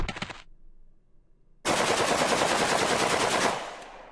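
Rifle fire in a Stickman heist video game: a short burst of rapid shots, a pause with low ringing, then a sustained loud automatic volley of dense cracks lasting nearly two seconds before trailing off.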